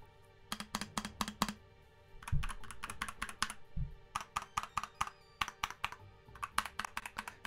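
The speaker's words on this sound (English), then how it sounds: "let's take a good listen on what it actually sounds like" Typing on an Ajazz 680 mechanical keyboard, crisp close-up clacks in quick bursts and runs with a couple of deeper thocks from larger keys, alone in a quiet room.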